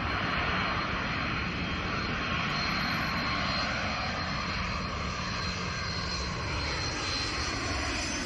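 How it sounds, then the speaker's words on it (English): A Lockheed C-5 Galaxy jet makes a low pass, its engines giving a loud, steady, broadband roar with a high whine on top, sustained without a break across the whole stretch. "There is nothing like the scream of a Lockheed C-5 Galaxy during a low pass."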